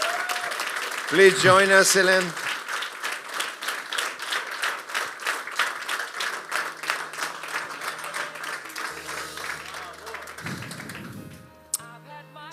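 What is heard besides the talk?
applause for the competition finalists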